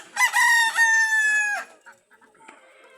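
A rooster crows loudly and close by in a village flock kept alongside ducks, one long harmonic cock-a-doodle-doo followed by softer scattered hen clucks.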